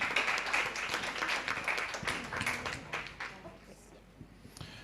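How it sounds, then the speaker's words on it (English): Audience clapping at a startup pitch event in Indonesia: dense, crowded applause that is loud at first, then thins and fades toward the end. "Big round of applause."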